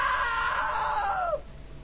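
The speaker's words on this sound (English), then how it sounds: "Now that was a great scream." A single long, high-pitched scream in the video game What Remains of Edith Finch, loud and close, wavering and then sliding downward before cutting off.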